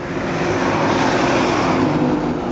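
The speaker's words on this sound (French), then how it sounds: "un camion" A truck rolls past close by on a road near a bridge in Vietnam, a loud, continuous broadband roar that holds steady for the whole moment with no voices.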